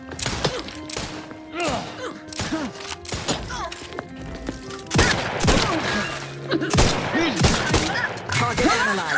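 Gunfire in the video game Outer Worlds 2: repeated sharp shots and thudding impacts in quick bursts, growing denser and louder in the second half, with game voices speaking in between.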